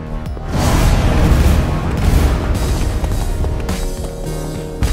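A loud TNT blast in Minecraft Story Mode, a heavy booming roar that swells quickly and rumbles on for several seconds with crackling debris, dense and close.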